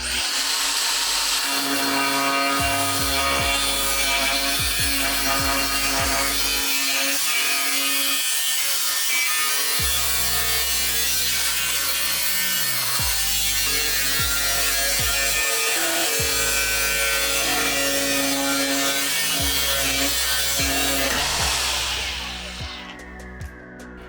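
A DeWalt FlexVolt cordless angle grinder cuts through metal in a continuous, loud, high-pitched whine, pitch dipping as the blade bites, then winding down at the end.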